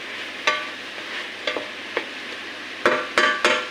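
Mushrooms cooking in butter in a pan over a soft, continuous sizzle, with irregular sharp clacks of a spoon or spatula stirring, louder toward the end; close and with no speech.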